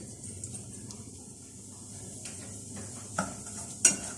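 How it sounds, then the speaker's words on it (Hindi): Semolina for a dry-date halwa fries in hot oil as a spoon stirs it around the pan, making soft scraping and shuffling with a faint sizzle and a couple of sharp metallic clinks near the end. "सूजी को इस ऑयल में फ्राई कर लेते हैं।"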